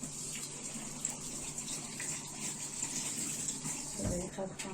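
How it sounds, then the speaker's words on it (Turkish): Tap water runs steadily over peeled garlic cloves in a kitchen sink, a continuous nearby splashing with a brief louder gush near the end. "Şimdi bunları yıkayayım."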